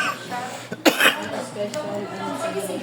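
A single sharp cough cuts through background chatter at a roadside cafe, with people talking nearby before and after it.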